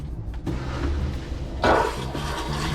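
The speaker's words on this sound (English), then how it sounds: "Then we flush." A toilet flushing into an RV black tank gives a sudden rushing gush of water that then keeps swirling and draining steadily, close by and without speech.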